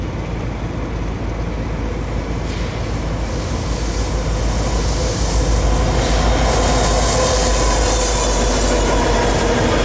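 A westbound intermodal freight train rolls past under a bridge with loud, continuous rumble and wheel noise, rising slightly toward the end, with faint squealing over the steady roar and no talking.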